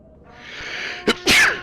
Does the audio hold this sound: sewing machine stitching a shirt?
no